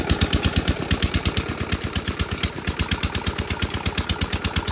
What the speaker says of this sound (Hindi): इस पीटर इंजन की ना आवाज़ बहुत ज़्यादा होती है, ठक ठक ठक।